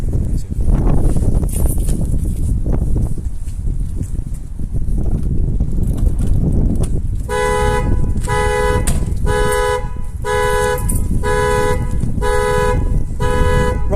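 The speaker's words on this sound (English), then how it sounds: "and then trigger the alarm." A Prestige X1 alarm on a Jaguar XJS blares in repeating pulsed tones, starting midway after a stretch of windy rumble and handling noise, loud and close.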